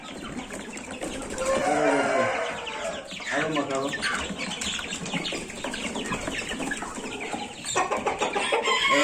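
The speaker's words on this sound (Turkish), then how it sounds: "Evet, burada horozumuz çok." Roosters and hens cluck and call loudly at close range in a farmyard, a busy overlapping flock with occasional wing flapping and someone speaking briefly among them.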